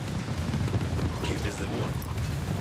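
Vehicles blowing up in the real-time strategy game Tempest Rising, a dense rumbling run of booming blasts and low crackle, with voices talking over it.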